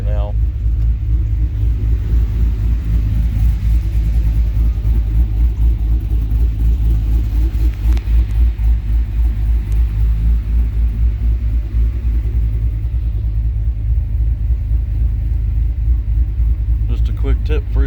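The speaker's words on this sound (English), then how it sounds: "But truck sounds a lot choppier now." A pickup truck idles unevenly after idle tuning with HP Tuners, a loud, close, low rumble with a choppy, lumpy pulse that continues steadily throughout.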